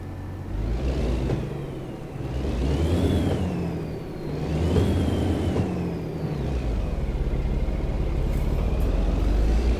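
Truck engine in American Truck Simulator, a steady low rumbling drone with gentle rises and falls in revs, loud and continuous with no talk.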